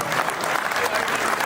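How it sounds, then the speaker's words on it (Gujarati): Audience applause for Dinesh at a community gathering, a steady burst of many hands clapping together, loud and sustained with no voices above it. "બધા વડીલો મિત્રોને વિનંતી કે દિનેશભાઈ માટે એક જોરદાર તાળીઓ વગાડીએ."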